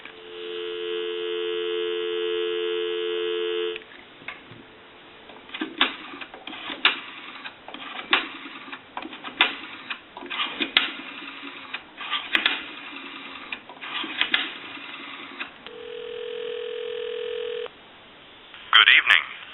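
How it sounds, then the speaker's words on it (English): Steady payphone dial tone on a 3-slot AE coin telephone, cut off by a run of separate dialing tones and clicks, then a short steady tone returns before a brief burst at the end; the sounds are close and clear, with no talking. "I'll go ahead and give you some dial tone."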